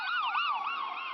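An ambulance siren wails in rapid rising and falling sweeps, fairly clear and alone, rushing toward a hospital.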